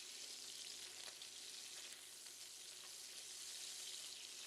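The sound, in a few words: prawns frying in a pan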